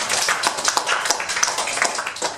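A room of listeners at a speakers' club meeting gives a speech evaluator a round of applause: dense, continuous clapping with many overlapping hand claps, fairly close and sustained.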